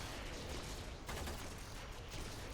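Video game gunfire in Warframe crackles in a rapid, dense burst of shots, fairly quiet and continuous throughout the short stretch.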